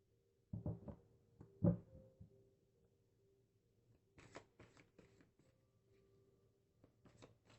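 Tarot cards are shuffled and drawn at close range in a quiet room, first a cluster of soft riffling flutters, then a pause, then lighter crisp snaps and slides as individual cards are laid down.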